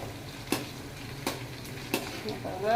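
Garlic and ginger frying in a pan for Kerala-style fish pickle, a steady close sizzle broken by three sharp spatula knocks against the pan.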